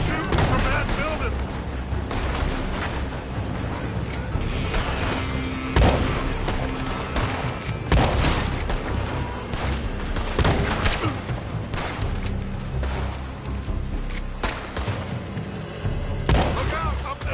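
Gunfire pours from a building in the Red Dead Redemption 2 game world, a loud, sustained exchange of overlapping rifle and pistol shots with sharp cracks and heavier booms throughout.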